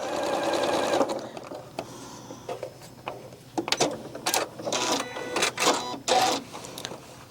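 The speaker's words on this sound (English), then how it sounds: "I'm just going to stitch straight through there" A sewing machine stitches through quilt binding at a 2.5 mm stitch length, giving a close, fast mechanical whir in several short bursts separated by brief pauses.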